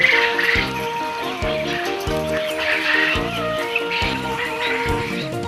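Quail at a quail farm beside a tin-roofed shed among trees, chirping loudly and continuously in a dense, layered chorus, with a steady rhythmic mechanical hum underneath.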